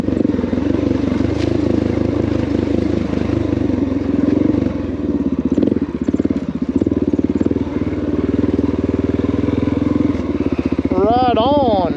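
Honda XR650L motorcycle riding a hard enduro trail, its engine thumping and rumbling steadily and close throughout, with rattles and clatter over the terrain.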